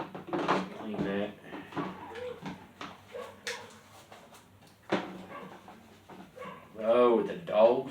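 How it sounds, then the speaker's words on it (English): Dogs bark in a backyard, with short yapping bursts that grow louder near the end, mixed with voices talking over them. "Oh, the dogs are barking."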